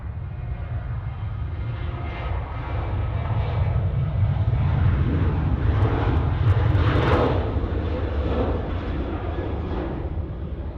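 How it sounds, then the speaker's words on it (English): A RAAF military aircraft making an ANZAC Day flypast over Sydney Airport, a steady deep engine roar that swells slightly and holds throughout, loud and continuous. "So the next of the flyovers to take place this morning at 9:30 local"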